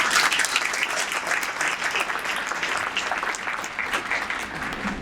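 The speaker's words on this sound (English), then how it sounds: "So let's give them a round of applause." A round of applause rises from the audience at a BC Football Hall of Fame induction ceremony, sustained dense clapping from many hands that holds steady and tapers slightly by the end.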